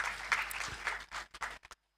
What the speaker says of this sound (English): Let's give a round of applause to that person